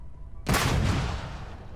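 A single grenade blast in the game Starfield, one loud sudden boom with a rumbling tail that fades over about a second, standing alone without talk.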